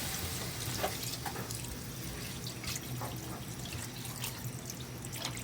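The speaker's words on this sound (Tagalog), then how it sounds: "Lagyan natin ang tubig" Steady running water pours and splashes continuously into a cooking pot while making dinuguan with coconut milk, with scattered small drips and clinks, and no talking.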